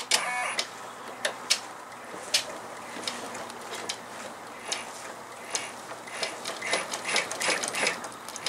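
An in-the-hoop embroidery machine stitches a tack-down line for a window wallet, a steady rapid mechanical chatter with regular ticking peaks, close and moderately loud, with no talking.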